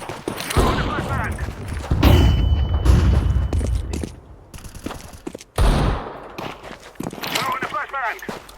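Counter-Strike: Global Offensive match with bursts of rapid gunfire and booming blasts, including a flashbang, loud and close, punctuated by sudden silences, with in-game voice lines and players talking throughout.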